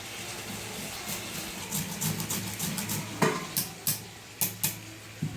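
Gondhoraj lemon chicken stirred in a pan, with a soft sizzle underneath and a series of sharp spoon-on-pan scrapes and knocks growing more frequent toward the end.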